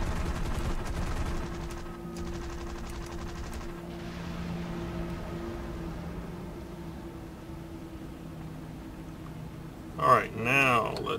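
P-36 Hawk machine guns firing at an H6K in the War Thunder video game: rapid bursts of gunfire over a steady, droning propeller engine, with a sharper, louder burst near the end.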